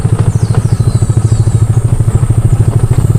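A scooter rides along a rough road near Camp River Rock in Tanay, Rizal, its small engine putting out a steady pulsing drone with rattling and thumping from the uneven surface, loud and close throughout.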